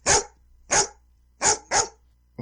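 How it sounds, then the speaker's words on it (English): Dog barking nearby in short sharp single barks, four in a row with a brief pause after the second, heard alone without talk. "Mine is dogs barking, because when you ring the bell,"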